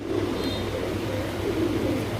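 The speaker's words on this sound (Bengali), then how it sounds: "এক জোড়া পুরান জাতের বাঘা কবুতর, সিলভার বাঘা" Silver Bagha pigeons, an old breed pair, coo in low, throaty, rolling murmurs close by, the soft burbling repeating in a continuous rhythm against a faint background hum.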